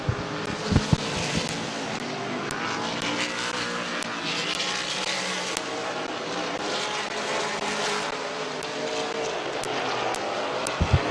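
Race cars roar around the oval at Midvale Speedway, engines droning continuously as the pack circles, with sharp clicks and knocks at the start and end.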